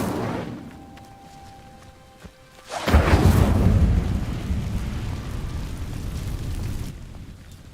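A fire spell in the video game Hogwarts Legacy ignites dry vines with a sudden loud whoosh, swelling into a roaring, crackling burn that holds for several seconds before easing off, after a quieter lead-in.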